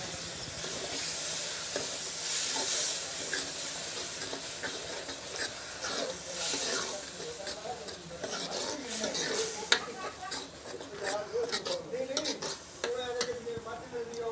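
Ground tomato, ginger, garlic and green chili paste sizzles as it is added to fried onions in a pan for chole bhature, with steady frying hiss and stirring under a speaking voice.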